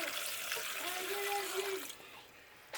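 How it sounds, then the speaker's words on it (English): Water is poured into a pot of steaming crab, a steady splashing pour that runs close and fairly loud for about two seconds, then cuts off. "I add some water to it, so I'm gonna close it down"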